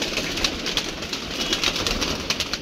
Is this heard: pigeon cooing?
yes